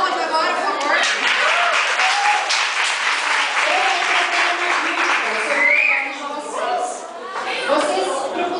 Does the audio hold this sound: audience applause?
yes